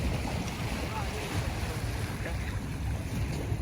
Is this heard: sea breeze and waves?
yes